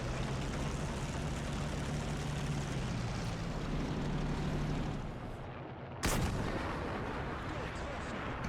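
German tanks fight in War Thunder, with a constant heavy rumble of battle noise that dips briefly before one sharp, loud cannon blast rings out.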